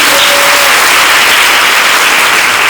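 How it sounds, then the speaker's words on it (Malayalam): Broad crowd clapping at a temple festival gathering in Kerala, a loud, even, saturated wash of many hands with no distinct individual claps, continuing without break and without speech. "കേട്ടവരൊന്ന് കൈയടിച്ചു കേട്ടാക്കണം"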